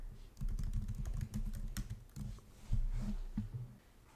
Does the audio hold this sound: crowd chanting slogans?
no